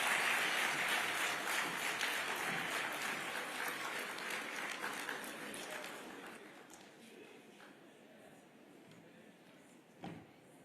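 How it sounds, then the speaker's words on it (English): Applause from the audience at a citizens' integrity awards dinner, loud and dense at first, then gradually thinning and fading toward the end. "Another round of applause for the chief guest."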